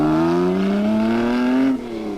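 Reg Parnell's Lagonda race car pulls away from the pits at Le Mans in 1955, its engine note loud and close, pitch rising steadily as it accelerates before dropping sharply as it passes.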